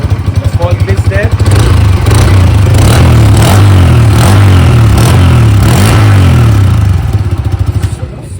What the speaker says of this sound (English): So with CNG, the exhaust note was a little on the lower side.